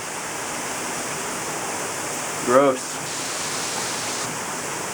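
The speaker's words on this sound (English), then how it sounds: "it's raining so hard" Heavy rain pours down outside in a dense, steady hiss that fills the whole clip, and a single short voice breaks in briefly partway through.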